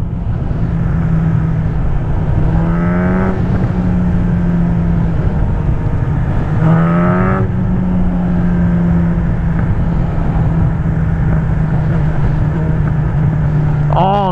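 A 2015 Honda CB1000R motorcycle engine drones steadily while riding, rising in two quick revving sweeps and ending with a brief sharp exhaust pop, with loud wind rush throughout.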